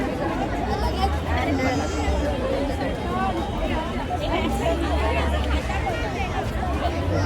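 Dense crowd chatter fills an outdoor stretch of the Kala Ghoda Art Festival, a steady close babble of many overlapping voices with nearby speech rising above it.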